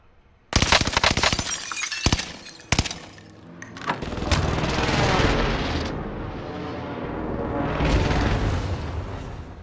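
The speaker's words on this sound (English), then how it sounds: "They blew up my helicopter." A helicopter blown up in an online shooter video game: sharp cracking blasts and shattering bursts, then a long, loud rumbling explosion roar that swells twice and fades.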